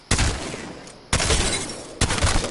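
Three bursts of weapon fire from Apex Legends, each a loud, sharp onset followed by a sustained roar of rapid shots, close and dominating, with brief gaps between volleys.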